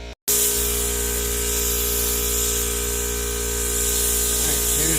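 Paint spray gun laying primer onto a Mustang car hood, a loud steady hissing rush that starts abruptly after a brief cut and holds evenly under a constant hum, no talking.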